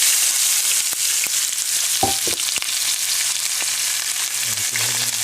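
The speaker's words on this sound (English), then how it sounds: "And go ahead and fry them with the same oil." A chopped medium onion frying in oil left over from frying eggplant for a stew, a loud, dense, continuous sizzle with a few soft clinks and scrapes, close by.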